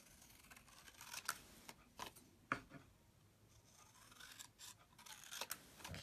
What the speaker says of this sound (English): the trusty scissors